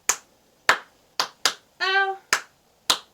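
Six sharp, close hand claps keep time to the Bingo children's song, broken midway by a brief sung or voiced note, with the claps otherwise alone.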